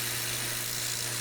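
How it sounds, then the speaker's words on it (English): A belt grinder with a relatively new, coarse belt grinds a knife blade, giving a steady, dense high-pitched hiss over a constant motor hum, close and even throughout a brief moment with no talking. "I'm using a relatively new, rather coarse belt for the initial grinding."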